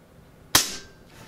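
A single sharp shot from a Kalibrgun Cricket air rifle fitted with an enlarged power plenum, a crisp close crack that rings off briefly in the quiet.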